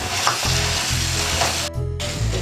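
Goat brain dropped into hot frying masala, giving a loud, close, continuous sizzle with stirring scrapes and a brief break in the middle, no voices.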